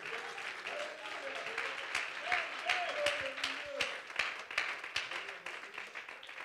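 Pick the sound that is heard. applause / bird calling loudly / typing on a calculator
applause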